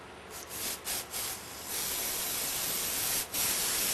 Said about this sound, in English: Give this a good cleaning now. Gently spraying it.